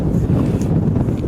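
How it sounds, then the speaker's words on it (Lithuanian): Strong wind buffets the microphone in an open field during a metal detecting hunt with an Equinox 900, a loud steady roar with constant gusting rumble and no other clear sounds. "nes vėjas tai tikrai nejuokingas."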